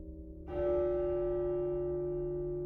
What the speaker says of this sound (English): the bell was again upon the stroke of 1